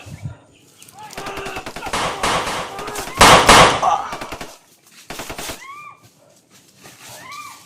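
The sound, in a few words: gunfire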